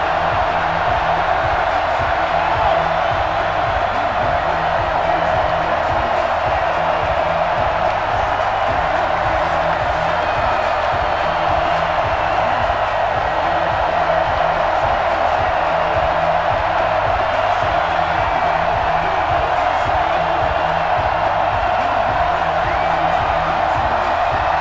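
A stadium crowd roars continuously at FedEx Field in Madden NFL 21, with a dense, steady wash of cheering and a few whoops rising out of it, heard throughout without pause.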